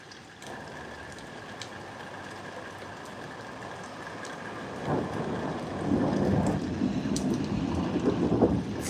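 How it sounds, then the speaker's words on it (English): Steady rain patters throughout while a low rumble of thunder swells in about halfway through and rolls on to the end, moderately loud and with no one speaking. "I don't know if you guys can hear the thunder or just see it"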